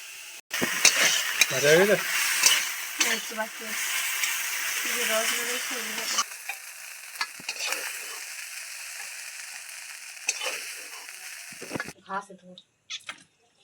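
Pieces of Sundarbans kuche eel fish fry in hot oil, a steady close sizzle broken by stirring scrapes, while a cat meows nearby and a person speaks over it; the hiss thins out toward the end.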